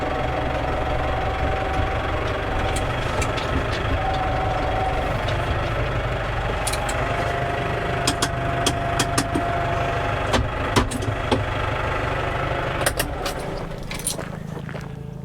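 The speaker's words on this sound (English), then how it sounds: "I'm going to go and cut a bit of grass." A grass-cutting mower engine runs steadily at a moderate distance, a continuous droning rumble with faint knocking and occasional light metallic rattles and clicks over the top.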